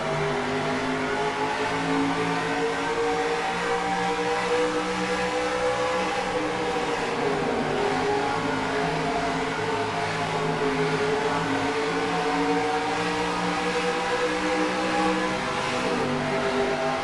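Trucks racing at full throttle in the NR2003 video game on a steeply banked oval, a continuous layered engine drone with shifting pitch as a pack runs together, steady and loud without pause.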